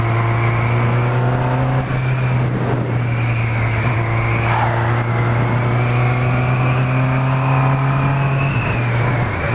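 A Honda Hornet motorcycle engine droning steadily as it rides through São Paulo traffic, a loud, continuous hum with a rising and falling tone close to the microphone, and no talking.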